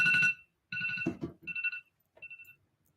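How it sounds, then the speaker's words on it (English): A phone rings with a tonal ringtone in several short, repeated bursts separated by brief gaps, close and clear with no talking over it. "Oh, there goes my phone."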